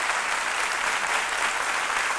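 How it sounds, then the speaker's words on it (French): A studio audience applauds domestic workers on a television talk show, a dense steady burst of many hands clapping together, loud and uninterrupted. "Je souhaiterais qu'on applaudisse très très fort le personnel de maison."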